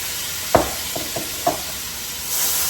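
Pre-cooked shrimp, seasoned with salt and pepper, sizzle steadily in an already hot pan, with several soft utensil taps and scrapes over the close, constant hiss, which swells slightly at the end.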